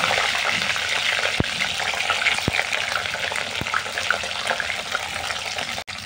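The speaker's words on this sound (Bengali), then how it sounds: "ফুলকপিটা ভাজার জন্য দিচ্ছি" Cauliflower florets fry in hot oil in a pan, giving a steady, close, continuous sizzle with a few sharp clicks and light stirring scrapes, and no voices.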